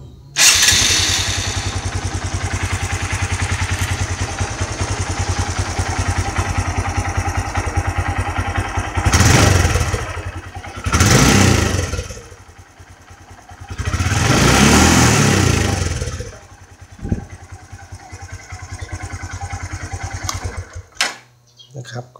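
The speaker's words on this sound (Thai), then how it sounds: "เดี๋ยวผมจะลองสตาร์ทเครื่องดูว่า" A Honda MSX 125 motorcycle starts up and idles with a steady, close engine chug, then gives several sharp revs that swell and fall back, with a brief throttle blip near the end.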